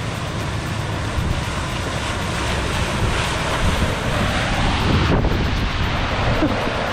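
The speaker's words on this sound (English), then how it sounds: "Oh my God, the boat wake." Boat wake waves wash and splash in a bayou, a steady, loud rush of water mixed with heavy wind buffeting the microphone throughout, with no speech.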